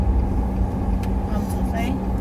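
A car being driven in at night, its engine rumbling steadily close by while people talk over it.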